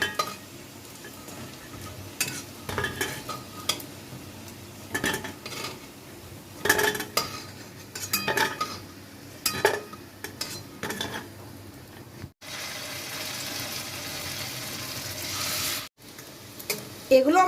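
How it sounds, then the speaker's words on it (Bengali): Dough fritters (bora) frying in a pan give a steady sizzle, broken by intermittent clinks and scrapes of a utensil against the cookware as they are stirred and lifted out. "এগুলো ভাজা হয়ে গেল বড়াগুলো।"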